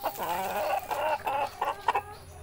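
Farm chickens that seem to have a cold make a close, moderately loud series of short, nasal clucks and murmurs.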